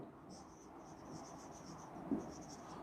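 A pen writes by hand on paper during a math lesson, giving faint, close scratchy strokes in short bursts, with a soft voice nearly inaudible underneath.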